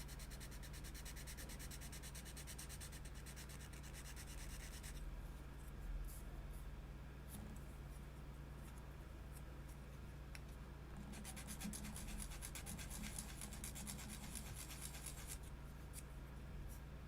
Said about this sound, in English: we've got most of this handle smoothed down to where we want it